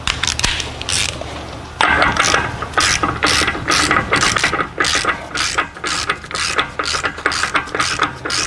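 A ratchet drives the axle nut onto the rear hub of an Acura MDX, giving a run of quick, close clicking bursts in an uneven rhythm, with short pauses between strokes.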